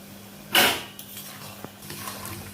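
A spoon scrapes and clanks against a pan of crab curry being stirred, one sharp metallic clatter followed by softer scraping and small knocks, close and with no talking.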